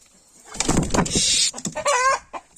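Egg-laying hens on a farm cluck loudly and close, with a rapid run of squawks and throaty clucks, then a short rising cackle, a brief quiet gap in between.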